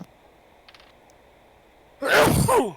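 A single loud, close sneeze bursts out after a quiet stretch with faint background noise, breathy and sharp with a short trailing exhale.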